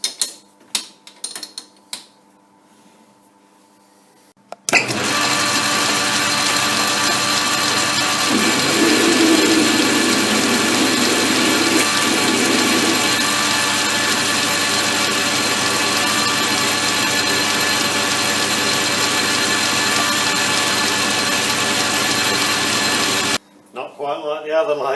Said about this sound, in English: Centre drill to get things started.